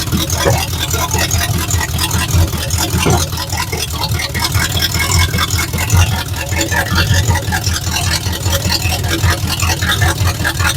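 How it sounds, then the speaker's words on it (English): An LS V8 in a hot rod truck runs loud and close with a deep, lumpy, pulsing rumble, steady throughout with no voices over it. "There isn't an LS in the world that sounds like this."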